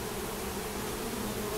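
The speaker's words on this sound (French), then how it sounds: "Des abeilles à la pelle aussi, elles sont jolies ces mandassailles." Dense, steady buzzing of many Brazilian stingless bees (mandaçaia) swarming close by, a continuous hum without pauses or voices.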